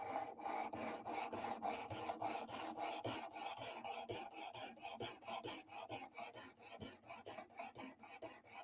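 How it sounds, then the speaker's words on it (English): A knife blade is sharpened with a steady run of rasping strokes, close and fairly loud, repeating at an even, quick rhythm with no voices. "Let me know if the sharpening is really too loud."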